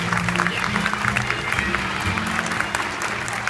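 Audience applause fills a theatre-school event as a former student, a teacher nicknamed Franjinha, is called up; steady dense clapping carries throughout, with a low murmur of voices underneath.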